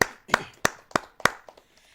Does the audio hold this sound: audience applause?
yes